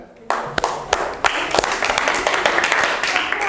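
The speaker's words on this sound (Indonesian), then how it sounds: "Tepuk tangan untuk kelompok 3 ya" Classmates applaud a presenting group in a classroom, a few sharp early claps swelling into a scattered, lively round of clapping that continues to the end, with some voices mixed in.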